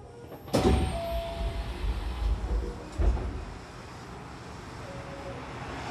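Hankyu Takarazuka Line train sliding doors at Osaka-Umeda Station, heard as a sharp thud soon after the start and a second softer bump a few seconds later, over steady station hum and brief chime-like tones.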